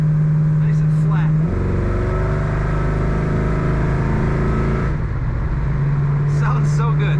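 A 1938 Chevrolet Master Deluxe Coupe street rod engine runs under way, giving a steady loud drone that rises briefly in pitch as it pulls, then settles back.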